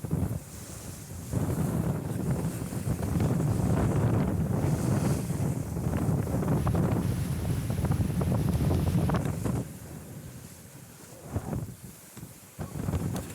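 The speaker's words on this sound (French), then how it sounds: "Entre-temps, le vent a forci un peu" Strong wind roars across the microphone aboard a sailing boat off the south coast of Fatu Hiva, with water rushing past the hull and gusts easing toward the end.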